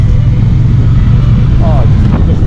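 A Triumph Bonneville T120 motorcycle engine burbles steadily at low revs, loud and close, with someone talking over it.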